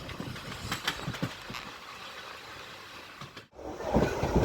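Koyna Express rumbles along double-tracked, electrified rail near Sangli station in India. A steady clatter and hiss of the moving train fills the clip, with rhythmic wheel thumps and a brief dropout before the noise swells louder.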